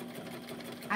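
Home sewing machine sitting on a TV stand, running with a steady mechanical hum and rapid needle patter, close and moderately loud.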